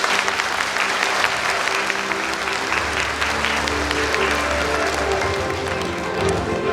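An audience at an award ceremony for competition finalists applauds in a dense, steady round of clapping that holds throughout, with a low musical hum underneath.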